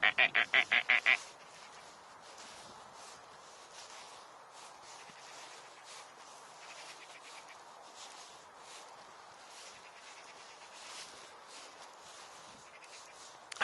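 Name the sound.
bird calling outdoors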